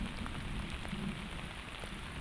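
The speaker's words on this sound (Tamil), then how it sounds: "இந்த மாதிரி மழை சரியான மழை" Heavy rain pours onto a road with water running along it, a dense, loud, unbroken hiss of drops and flow up close.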